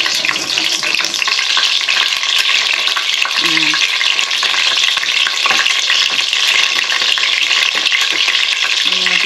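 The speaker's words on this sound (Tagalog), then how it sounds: "You need to fry the beef. The oil is hot." Beef frying in hot oil that holds a little water for a Filipino afritada, a loud continuous crackling sizzle with occasional stirring scrapes and clinks.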